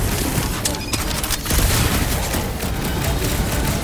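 Dense gunfire in Marvel's Guardians of the Galaxy, with sniper fire mixed into a continuous noisy battle under shouted game dialogue and explosions.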